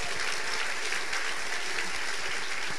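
A church congregation claps together in a dense, steady burst of applause that fills the short moment at full volume, with no speech over it.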